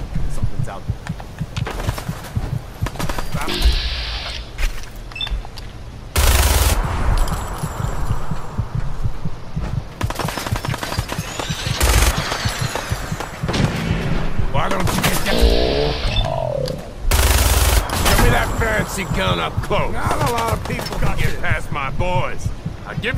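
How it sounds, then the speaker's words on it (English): A minigun fires in Fallout 4 in several loud, sustained bursts of rapid shots, broken by pauses filled with a droning hum and other game noises. "And you can use the minigun."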